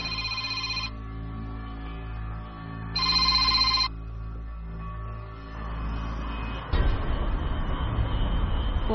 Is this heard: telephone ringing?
yes